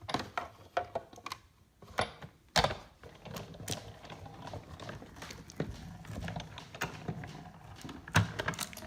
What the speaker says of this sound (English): So just a pass back and forth, the Big Shot's all that's needed.